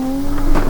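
A video game car braking hard mid-drift on a night course, its steady engine drone giving way to a brief rising tire squeal near the end, loud and close.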